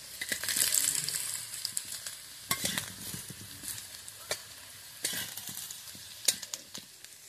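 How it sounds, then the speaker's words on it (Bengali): Potato pieces sizzle steadily in hot oil in a pan for a Bengali chicken kosha, with sharp scraping and clinking stir strokes recurring every second or so, close and clear with no talking. "তো আমার আলুটা ভাজা হয়ে গেছে, এবারে আমি নামিয়ে নেব।"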